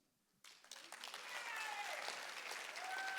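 An audience at a comedy magic show breaks into applause after a moment of quiet, the clapping building quickly and staying steady and fairly faint.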